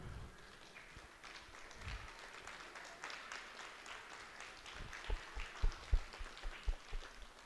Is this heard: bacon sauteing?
no